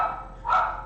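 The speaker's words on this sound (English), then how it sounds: "The dogs are going crazy." Dogs bark in short bursts indoors, one loud yelp-like bark near the start and a stronger bark around the middle, close and fairly loud with no talk over them.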